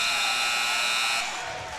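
A buzzer blares at a varsity basketball game, a loud, sustained electronic tone that holds steady and then drops away amid gym crowd noise.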